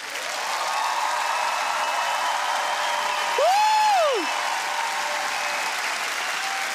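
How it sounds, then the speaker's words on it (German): Audience applause at an awards show in Germany fills the clip, a dense, steady wash of many hands clapping at moderate distance, with a brief gliding tonal sweep partway through. "Deswegen würde ich mich freuen, wenn ihr mir noch einen Applaus schenken würdet."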